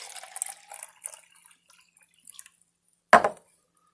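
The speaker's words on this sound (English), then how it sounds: "And then pour water in the bottom of this." Water poured into the bottom bottle of a DIY self-watering planter gives short soft trickles and drips, then a brief louder splash near the end, with quiet gaps between.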